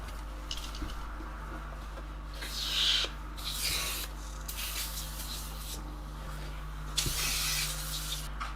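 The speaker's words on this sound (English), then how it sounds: "I'm going to clean out the inside and the insoles. As usual, I'm just going to use some Worth interior cleaner" Interior cleaner sprayed inside a pair of distressed Gucci sneakers, several short hissing spray bursts, fairly quiet, separated by soft rubbing and handling noises, with no talking.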